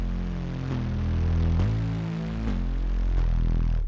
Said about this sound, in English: which is bass center in combination with the noise and the distortion.